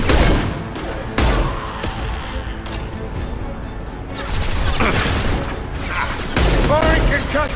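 Mass Effect 2 concussive shot ability firing amid game combat, with repeated sharp concussive blasts and booms over a dense layer of gunfire and effects, loud and close.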